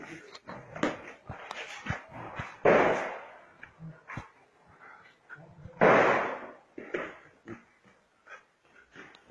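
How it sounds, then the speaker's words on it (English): Two loud, sharp gunshots ring out a few seconds apart, fired at a gate during a military raid on a house, amid a busy noisy scene with dogs and scattered clatter. "They're shooting at the gate."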